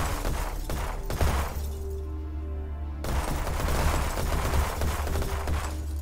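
Rapid bursts of gunfire from the video game The Eternal Cylinder, shooting at a base amid rumbling game ambience. The shots are loud and continuous, with a brief quieter stretch in the middle.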